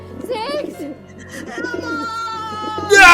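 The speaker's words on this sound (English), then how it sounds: "the Nighthawks come flooding in" A staged flock of nighthawks attacking in an audio drama, heard as loud close cooing and warbling bird calls in overlapping bursts, ending in a sudden burst of noisy flapping or commotion.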